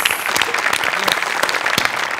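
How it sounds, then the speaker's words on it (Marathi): A studio audience at a Marathi comedy show claps in a dense, lively burst of applause that stays loud and even throughout, with no pause. "त्यांच्यासाठी टाळ्या वाजवायला पाहिजे."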